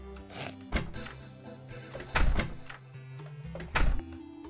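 A door in Terraria opens and closes, three heavy thunks spaced out over a few seconds, each a short wooden knock over a low background hum with no voices.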